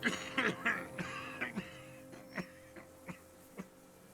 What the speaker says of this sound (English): His hand shakes and he breaks into a coughing fit.